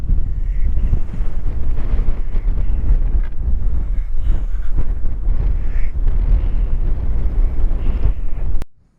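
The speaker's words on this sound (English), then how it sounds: "it's very windy today" Strong, steady wind buffets the microphone outdoors at Clayton Lake State Park in New Mexico, a loud, continuous rumble that cuts off abruptly at the end.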